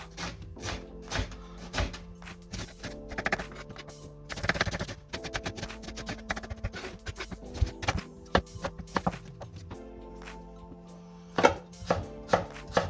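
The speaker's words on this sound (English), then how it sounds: "The swede we cut in small cubes as well." A knife chopping swede into small cubes on a board in a home kitchen: crisp, close thuds in quick irregular runs, with short pauses between them.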